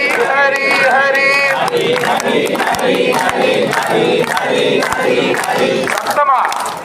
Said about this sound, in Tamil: அதனால ஹரிநாமத்தை சொல்றது உங்களுக்கு தான், பெருமாளுக்காக இல்ல, உங்களுக்கு புண்ணிய சேர்க்கணுங்கிறதுக்கு தான் ஹரிநாமத்தை சொல்றோம்.